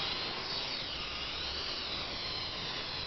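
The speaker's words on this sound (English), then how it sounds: "I go ahead and press the takeoff button. You'll see the helicopter will take off" An AR Drone quadcopter lifts off and hovers, giving a steady, fairly loud high-pitched rotor whine with broadband hiss that holds constant with no talking.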